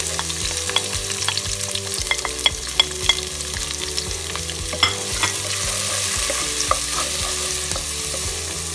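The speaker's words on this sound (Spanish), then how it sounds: "Ya he cortado los pimientos, ya los tengo bien fritos y ahora voy a añadir la cebolla." Onion goes into a pan of already fried peppers, producing a strong, continuous sizzle with frequent crisp pops and clicks of stirring, close and loud, with no voices.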